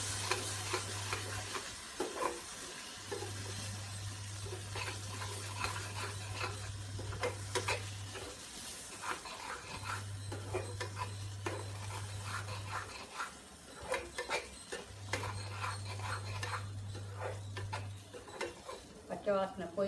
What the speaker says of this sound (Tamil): இது நல்லா பச்சை வாசம் போக வதங்க விட்டு இந்த பட்டாணியை ஆட் பண்ணிட்டோம்.